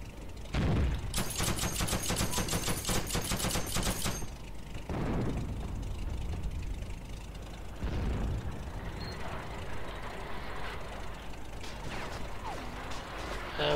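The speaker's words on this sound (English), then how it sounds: "there's also a tank firing." Heroes & Generals game audio with a rapid burst of automatic gunfire at the start, then heavy booming tank cannon shots and rumbling battlefield noise with scattered distant shooting.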